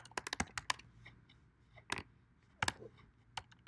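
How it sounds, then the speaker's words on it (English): Scattered clacks of keys on a computer keyboard, a few quick bursts of close, faint taps separated by short pauses, with no talk. "So I'm just going to type your character."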